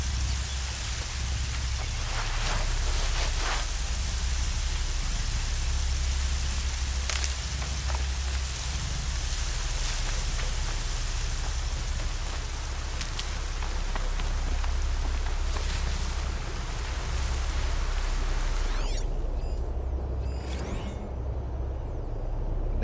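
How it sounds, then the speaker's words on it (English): Rain pours in the video game Horizon Zero Dawn, a steady, dense hiss of falling drops that runs unbroken for over twenty seconds. A few louder spatters come through, and no one talks. "And now it's raining, which is actually really annoying."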